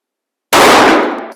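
A single loud 9mm pistol shot firing a 115-grain bullet at bowling pins cracks sharply out of silence, then rings down over about a second.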